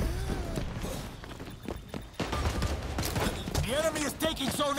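Shotgun blasts crack out in a round of the video game XDefiant, a string of sharp, irregular bursts amid busy combat noise, with a voice briefly talking over part of it.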